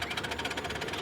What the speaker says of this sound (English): if you want a nice steam engine, folks, this little baby's for sale.